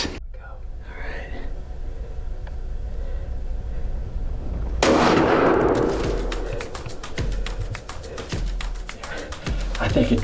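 A single sharp, loud gunshot from a Winchester rifle chambered in 350 Legend straight-wall cartridge cracks out in an outdoor deer-hunting setting after quiet whispering, followed by a long echoing decay.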